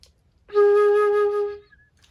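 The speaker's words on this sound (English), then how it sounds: "The flute is a woodwind instrument." A single sustained flute note, clear and steady, held for about a second, close and alone in an otherwise quiet room.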